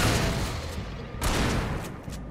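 Gunfire in the video game Alan Wake Remastered: a dense, loud run of overlapping shots and booms, with sharper bursts standing out near the middle and the end.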